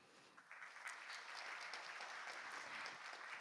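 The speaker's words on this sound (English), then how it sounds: "please give a big round of applause to mark the successful opening of the World Bio Summit" An audience at the World Bio Summit 2025 opening ceremony applauds steadily, a dense, even wash of clapping that holds for several seconds at moderate distance.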